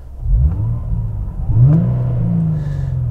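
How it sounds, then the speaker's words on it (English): Car engine revs as the gas pedal is pressed, with two rising surges, the second stronger, before settling into a steady mid-pitched run, close and loud with no talking. "So if I just kind of get my foot on the gas pedal here"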